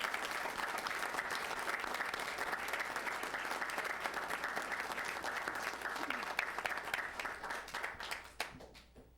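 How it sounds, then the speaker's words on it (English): Steady applause from a sizable crowd at a city council meeting, dense and sustained, slowly thinning out and fading into scattered claps at the end. "please join me in a round of applause"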